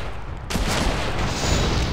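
Gunfire from the video game Gun erupts abruptly after a brief lull, turning into a loud, sustained burst of rapid shots and blasts that fills the rest of the moment.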